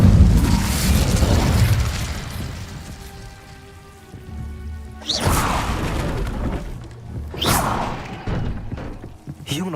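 The Incendio fire spell erupting in Hogwarts Legacy, a loud burst of fiery roar and crackle that fades and then flares again twice with whooshing hits, over game music, with no one talking.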